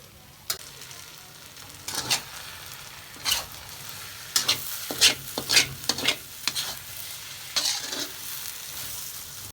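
An egg fries in a pan alongside Hainanese beef, giving a steady sizzle that is broken repeatedly by sharp, scraping bursts as it is stirred and pushed around. No one speaks.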